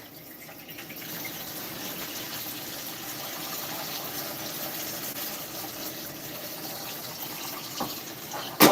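Cooked pasta for baked ziti being drained, its water pouring out in a steady continuous gush and splash for several seconds, ending in a sharp clatter.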